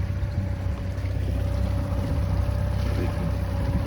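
Steady drone of a Mercury remote-controlled kicker outboard motor running on a Lund Fisherman boat, loud and close with constant low rumble and no break through the whole stretch.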